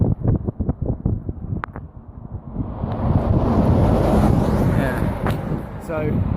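Heavy wind buffeting a microphone during a walk along the A9 road by the Dornoch Firth bridge, starting with gusty bursts and then settling into a steady loud roar, with a few short voice sounds near the beginning.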